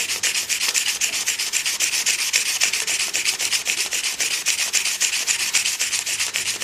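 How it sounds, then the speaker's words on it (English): Hand sanding along a wooden pen blank barrel at 120 grit on a stopped lathe, a close, loud, rhythmic rasp of quick back-and-forth strokes repeating evenly throughout with no talking. "At 120 grit, I usually just stop the lathe, and just to take the sanding marks away, I just hand sand along the length of"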